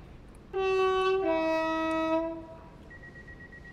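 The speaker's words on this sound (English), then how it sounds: "Nice horn." Train horn on a London Overground Class 710 electric train in Train Sim World 4, a loud two-tone blast with the pitch stepping down partway, lasting about two seconds before fading to a faint high tone.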